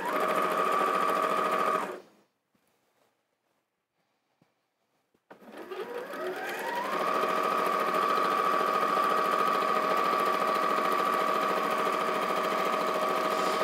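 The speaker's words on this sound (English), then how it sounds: "I'm sewing these in the same direction as I'm doing the blue and the green" A sewing machine stitches a fabric strip set in a steady mechanical whir, stops for a few seconds of near silence, then winds back up and runs evenly again, close and clear.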